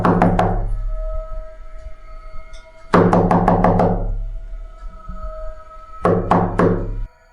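Someone knocks on a door at night, the setting of an Indonesian horror story. The knocking comes in three separate bursts of four or five rapid, loud, hollow raps, with a short quiet pause between each burst.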